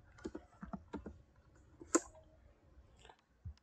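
Keys clatter in short uneven bursts as someone types into a Google search on a computer keyboard, quiet and close, with a sharper click partway through and long gaps between taps.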